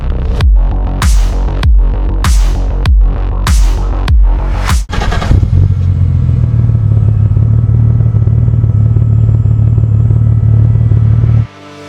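A fully built 1988 Holden VL Turbo revs in a series of sharp, loud bursts for about five seconds, then settles into a steady, deep idle rumble that cuts off abruptly at the end.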